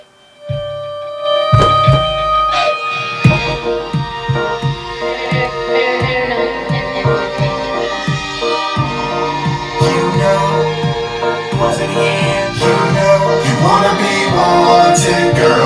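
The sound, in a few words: music playing through Hercules DJ Control Mix controller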